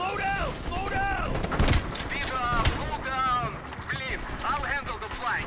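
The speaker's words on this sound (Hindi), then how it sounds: "किधर से गोलियां मार रहे हो?" Gunfire in Call of Duty Black Ops Cold War, with several sharp shots cracking out between stretches of excited talking from the player.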